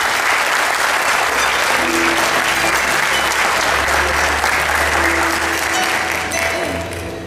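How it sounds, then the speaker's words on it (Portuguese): An audience at a spiritist gathering breaks into sustained applause, dense and steady clapping close by that fills the whole stretch and eases off slightly at the end. "Então recebamos um aplauso."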